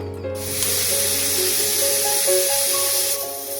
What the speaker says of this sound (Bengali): ঢাকনা লাগিয়ে এটাকে একদম মানে 7 থেকে 8টা সিটি দেব